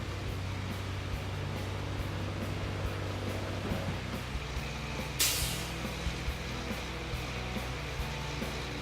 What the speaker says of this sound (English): the mixer operator transferring the cement from his truck into the hopper of the pump truck